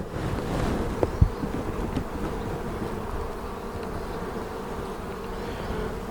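Honeybees hum and buzz around an open hive in spring, a dense continuous drone close by, with a couple of sharp knocks near the start.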